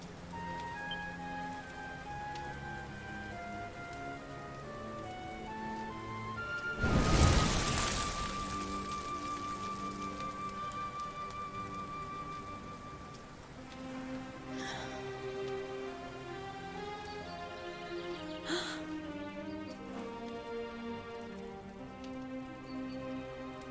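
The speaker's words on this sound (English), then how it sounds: "Looks like the rain's dying down." Rain falls in the video game Dragon Quest XI, a steady soft patter on surfaces under ambient game music, with one brief louder burst and occasional light impacts, no speech.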